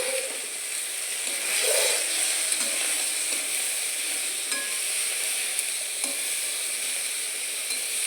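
Bathua greens hit a hot pan and fry with a steady, bright sizzle and hiss that holds throughout, with a few faint clinks and stirring sounds and no voices.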